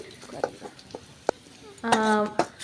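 Oil sizzles and crackles in a pan as curry leaves are dropped in for a village-style mutton kulambu, with a few scattered clinks and stirring sounds around it.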